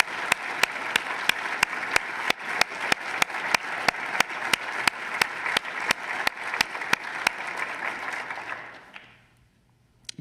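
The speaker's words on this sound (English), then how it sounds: "Let's have a round of applause for Ralph and Corinne." An audience at an academic installation ceremony for a neurosurgery professorship claps in sustained, dense applause with sharp individual claps on top, then fades to near silence.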